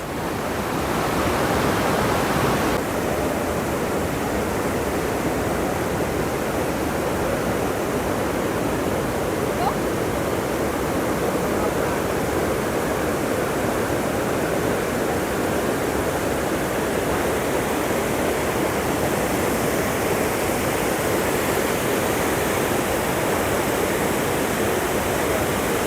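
Iguazu Falls roaring with powerful rushing water, a dense, constant, loud wash of noise that fills the whole stretch without a break.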